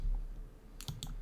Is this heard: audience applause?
no